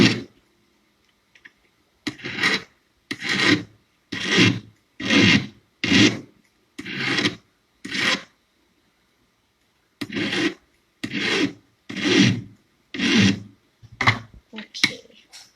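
A hand file rasps in rhythmic back-and-forth strokes, about a dozen short scraping bursts in two runs separated by a pause, close and distinct, during a nail-filing demonstration.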